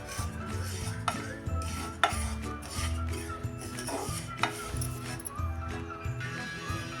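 Sesame seeds are roasted in a pan and stirred continuously with a spoon, giving a repeated scraping, rattling rhythm with occasional sharper clinks against the metal, heard up close.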